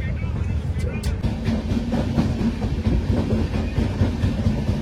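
Inside a moving Mumbai commuter train bound for Panvel: a constant low rumble and rattle of the carriage with rhythmic wheel clatter and muffled crowd chatter.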